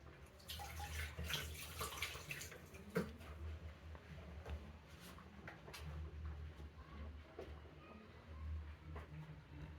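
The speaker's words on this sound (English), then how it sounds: "let me just wash my hands" Tap water running steadily while hands are washed in a home kitchen during pizza making, a quiet continuous splash with small knocks and clatters throughout.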